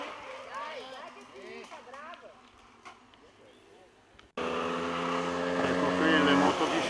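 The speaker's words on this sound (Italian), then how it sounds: "Ecco qui le moto di scorta" Motorcycles escorting riders in a race pass by loudly with a steady engine roar that comes in abruptly and builds over several seconds, after a stretch of commentary and crowd chatter.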